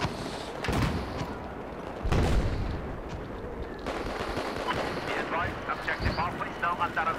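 Saiga 12K shotgun fire in Battlefield 4 during a Metro map match: several heavy, booming shots spaced a second or two apart, loud and close, over continuous game battle noise.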